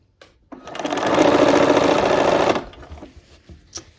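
Sewing machine stitching a long quarter-inch seam on a baby quilt strip set, a fast steady mechanical whir lasting about two seconds after a brief start, then stopping with small clicks.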